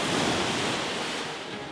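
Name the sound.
ocean waves on a beach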